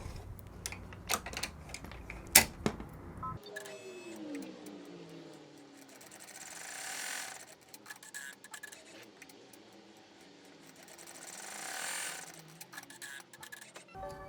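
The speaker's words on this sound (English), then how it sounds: "I'm going to put this back in the machine and we're going to tack down our zipper." An embroidery machine tacks down a zipper for an in-the-hoop cash card zipper pouch, giving a steady mechanical whirring and rapid stitching clatter that runs on for many seconds after a brief louder rattle at the start.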